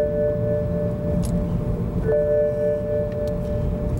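A car's seatbelt warning chime sounds continuously at a constant pitch, briefly shifting once midway, over a low hum of engine or road noise inside a BMW.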